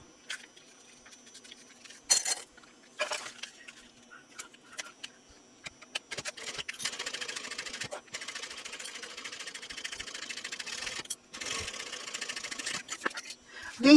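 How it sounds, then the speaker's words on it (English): A sewing machine runs a 1/8 inch seam across the fabric edge in several bursts of rapid, steady mechanical whirring, with short pauses and light handling clicks between runs. "I want to stitch across using a 1/8 inch seam allowance"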